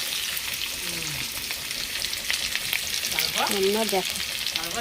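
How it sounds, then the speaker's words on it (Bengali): Steady, hissing sizzle of food frying in a pan until browned in a home kitchen, with faint clinks of stirring and a brief murmur of talk in the background. "ভেজে লাল করে ভেজে নিই ভেজে তারপরে মশলাটা দেব"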